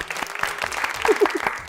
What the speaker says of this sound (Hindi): इस पर तालियां लगवा देना यार